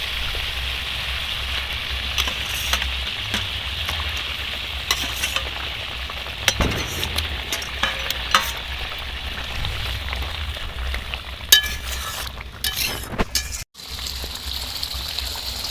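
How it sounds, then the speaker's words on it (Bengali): Pieces of katla fish sizzle steadily in hot oil for a Bengali fish curry, with a constant loud frying hiss broken by scraping and clattering stirs of the pan, and no talking. "এবার মাছগুলো দিয়ে দেবো।"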